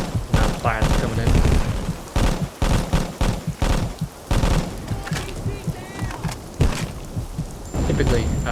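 Sustained machine gun fire in the Vietcong video game thumps in dense, repeated bursts, while someone talks steadily over the barrage.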